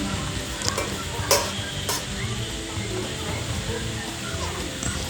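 Onions frying in a pan while being stirred, a steady close sizzle with scraping stir sounds and a couple of sharper spatula knocks, continuous throughout.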